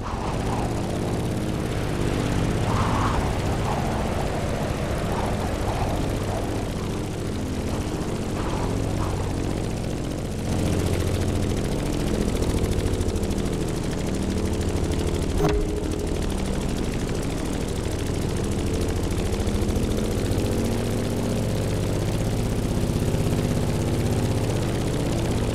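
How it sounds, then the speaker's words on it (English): A Grumman F8F Bearcat piston propeller plane in the racing game The Crew Motorfest, its engine droning in a loud, steady, throbbing roar with shifting pitch throughout. "In the cockpit of a stunning Grumman F8F Bearcat, or simply the Bear."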